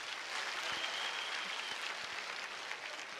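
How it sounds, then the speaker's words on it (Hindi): Dense applause from a large audience at a Holi-themed kavi sammelan poetry recital in Kolkata, a steady wash of clapping that holds evenly throughout without voices. "एक बार आप जोरदार तालियां और बजा देंगे"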